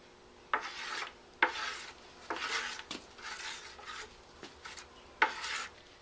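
Ceramic casting slip stirred in a container, a series of rasping, scraping strokes against the sides with short knocks between them, close and fairly quiet.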